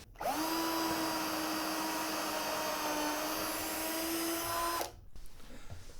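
A power drill whines steadily as it bores into a brown mallee burl block being shaped into a puukko knife handle, a loud sustained tone that stops abruptly near the end, leaving quiet workshop noise.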